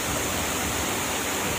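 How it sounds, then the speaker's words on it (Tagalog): Rushing water at Badyang Waterfalls in Northern Samar: a steady, broadband roar of falling water, loud and even throughout, with no voices. "Badyang Waterfalls."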